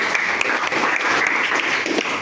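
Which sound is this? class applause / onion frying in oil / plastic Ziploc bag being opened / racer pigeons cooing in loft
class applause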